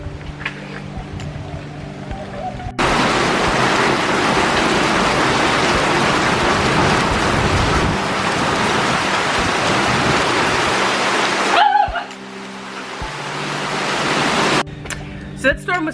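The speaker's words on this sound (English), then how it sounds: "oh, it's raining now." Heavy rain suddenly pours down, a loud dense roar that begins abruptly and holds steady for about nine seconds before cutting off, with quieter background sounds before and after.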